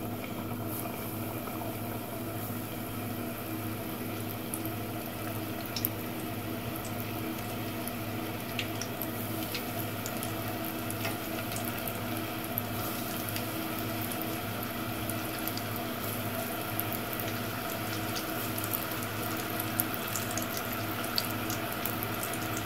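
Sweet potato pieces frying in hot oil give a continuous, even bubbling sizzle that stays steady and moderately loud from start to finish, with no talking.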